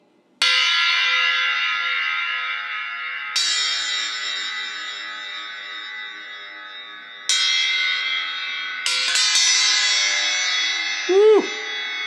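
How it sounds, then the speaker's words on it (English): A bent aluminum bar percussion instrument, shaped like a triangular pyramid, is struck four times, each strike ringing out with a bright, long, shimmering bell-like tone that slowly decays. "It's aluminum bar that's been bent into a crazy triangular pyramid shape"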